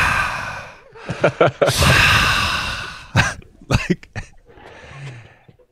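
A man imitates loud, forceful breathing right into someone's ear, rough breathy bursts of varying length with a long sustained gust mid-way, mixed with a brief spoken word and short exhalations.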